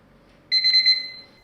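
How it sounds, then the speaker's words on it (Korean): A kitchen timer set for four minutes while cup noodles cook sounds a bright electronic alarm. It gives a few quick pulsing beeps that start suddenly, then fade into a quiet room. "타이머는 끄고"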